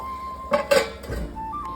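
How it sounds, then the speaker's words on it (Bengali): A metal lid clatters onto a cooking pot while potatoes boil for a chana and soya kofta curry, giving two quick close clanks followed by a softer settling rattle. "এবার আমি এটা একটু ঢাকা চাপা দিয়ে দেবো"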